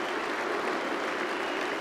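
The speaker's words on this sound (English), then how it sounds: "Standing ovation from both the Lord's crowd," Lord's cricket crowd giving a standing ovation at a Test match, a dense, continuous wash of clapping heard from a distance and sustained evenly throughout.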